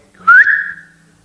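A single rising wolf-whistle-like tone, a person imitating a whistle aimed at girls, sweeps upward then holds and fades over about a second, loud and alone with no talk.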